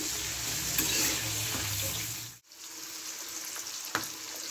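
Chopped onion fries on high gas in a pan for chilli prawn, giving a loud, steady sizzle close up. It cuts out for a moment, then resumes, with a light stirring clatter and no voices.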